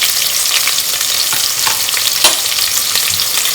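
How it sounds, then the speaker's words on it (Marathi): Sliced onion sizzles loudly and steadily in a hot pan for Maharashtrian coconut rice, with scraping stirs breaking through the constant crackle, close up and without talk. "तो चांगला परतून घ्यायचा आहे कांदा."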